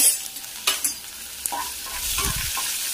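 Mustard seeds and cut chillies sizzle and pop in hot oil in a pan, with crackling bursts early, then a steadier close frying hiss as they are stirred.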